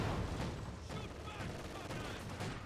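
Rapid autocannon fire from a 222 armored car in Company of Heroes 2, a faint, muffled stream of shots blending into distant battle noise with a low rumble underneath.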